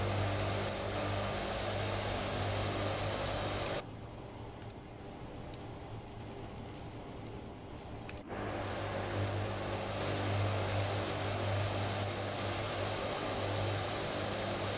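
A Hercules in a flight simulator drones with a steady propeller hum and deep engine tone, loud and constant, dropping to a quieter muffled drone midway before the full roar returns.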